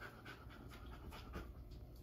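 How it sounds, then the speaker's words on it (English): A female dog pants steadily during a short training exercise, with quick, rhythmic breaths close to the microphone and no talking. "You see that she's panting."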